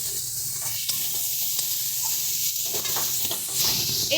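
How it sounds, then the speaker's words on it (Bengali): Fried potatoes and bori are stirred into a sizzling spice paste in a pan for a koi fish curry, giving steady close frying hiss broken by scraping stir strokes. "এবারে দিয়ে দিচ্ছি আমরা আলুটা, ভেজে রাখা আলু, বড়ি দুটো দিয়ে ভালো মতন করে মিশিয়ে নিচ্ছি মশলার সাথে।"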